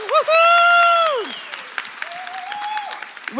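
An audience at an arts equity mayoral candidate forum breaks into applause, with one loud whooping cheer at the start and a shorter whoop later, over steady clapping for about three seconds.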